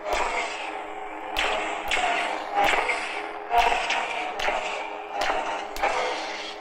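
Clash effects from an Artsabers Ezra Bridger neopixel lightsaber ring out as a run of sharp crackling impacts, about six evenly spaced bursts over a continuous electric hum, loud and close with no voices.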